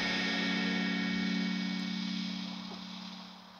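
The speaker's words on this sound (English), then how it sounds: "everything sort of melting together and distortion and fuzz until you can't recognize it." A dense, droning wash of distorted, fuzzy tones with steady hum, smeared together and slowly fading toward the end.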